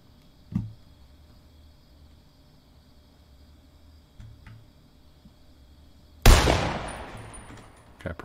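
Gunfire in the Fortnite video game: one sharp shot early, a softer distant pop later, then a loud close blast with a decaying tail over a quiet, faintly humming background.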